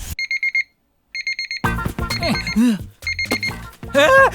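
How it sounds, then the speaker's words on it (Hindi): An alarm clock rings with rapid, bright beeping bursts that pause and resume, then keeps beeping under loud, excited speech and shouting. "ये 6 बजे की जगह 9 बजे का अलार्म क्यों लगा दिया?"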